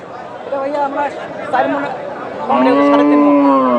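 Cattle at a livestock market in Bangladesh give a long, loud moo close by, with crowd chatter and a talking voice in the background.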